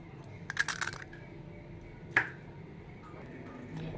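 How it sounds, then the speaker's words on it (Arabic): An egg is cracked for a shrimp marinade in a home kitchen, with a few quick sharp cracking taps followed by a single crisp snap as the shell breaks open, close and fairly quiet. "كسرت البيضة اهي"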